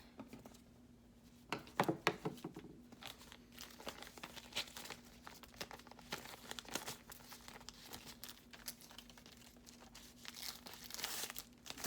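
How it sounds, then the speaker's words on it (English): A plastic Ziplock bag having its top cut off, heard as soft, close crinkling and rustling of thin plastic with scattered snips and crackles, quiet throughout. "I just get a Ziplock bag, just cut that top, this top portion off because I'm not going to use it"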